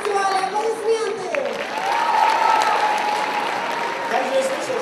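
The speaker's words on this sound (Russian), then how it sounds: "Организаторам фестиваля, аплодисменты" Festival audience applauding the organisers, a steady wash of clapping from a crowd with some cheering and voices mixed in, fairly loud and continuous throughout.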